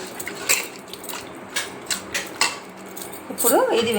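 Homemade KFC-style fried chicken being moved into another bowl with a metal spoon, bright clinks and scrapes of cutlery against steel dishes sounding in a loose, irregular series, close by, with a voice rising briefly at the end.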